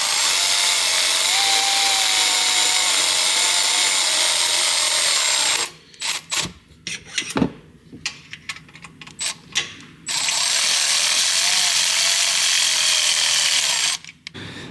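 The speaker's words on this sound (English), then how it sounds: "Grab our other 2 bolts, and we get that thing tightened up." Mechanical clicking and clatter of a hand ratchet tightening intake bolts on a 2022 Ford 6.7 diesel, a burst of close, irregular ticks in the middle, set against a steady broadband hiss before and after.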